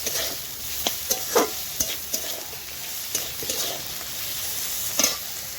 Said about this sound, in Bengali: এবার আলুটা আলুর সাথে মশলাটা ভেজে নেব